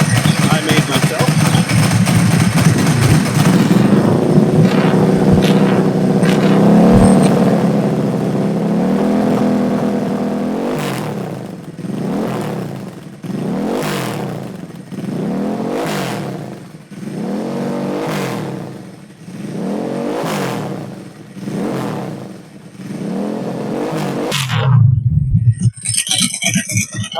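A Ducati 999 motorcycle fitted with a homemade exhaust roars at close range, first in a steady loud drone, then in a series of about eight sharp throttle blips that swell and drop, ending in one more burst.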